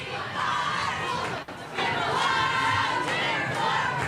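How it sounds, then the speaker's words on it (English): A high-school football crowd of Bobcat fans roars and cheers after a touchdown at a night game, a broad continuous swell of shouting voices with a brief dip midway before surging again. "gives these Bobcat fans something to cheer about here tonight"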